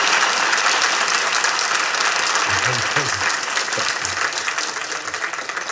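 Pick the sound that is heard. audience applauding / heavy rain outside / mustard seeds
audience applauding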